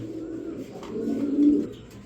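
Low, throaty pigeon cooing, a single rolling coo swelling and fading at close range in a quiet space.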